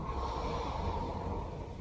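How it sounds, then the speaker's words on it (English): Ujjayi breathing during a yoga meditation, a steady, hushed, throaty inhale rushing through a constricted throat, continuous and close with no talking. "Begin to hear the sound of the breath. Using your Ujjayi breathing."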